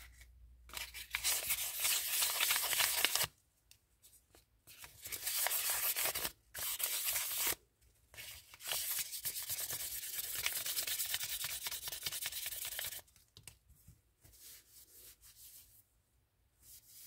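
A ceramic resin craft piece is hand-sanded in close, quiet bursts of rough rubbing and scratching, several seconds each, separated by brief pauses.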